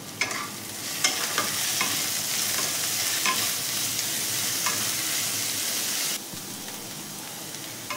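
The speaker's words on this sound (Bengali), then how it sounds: "দিয়ে এগুলো সব একসঙ্গে মিশিয়ে নেব" Bottle gourd peel with turmeric and sugar stirred in a hot pan, a loud steady rain-like sizzle with scraping spatula strokes, close up, dropping a little quieter near the end.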